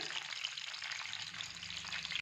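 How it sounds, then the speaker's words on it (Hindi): Soft continuous sizzling as rice is lightly sautéed in a pan for jaggery rice, a steady hiss with faint stirring, close and fairly quiet, no talk. "यहाँ पर हम इसको हल्का सा जो है वो सौते करेंगे।"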